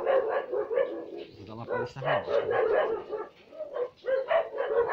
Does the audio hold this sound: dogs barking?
yes